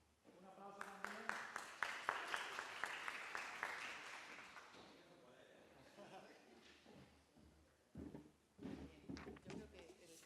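Scattered applause from a small group at an open government workshop, a burst of individual claps that fades out, then a few louder irregular claps and handling noises near the end.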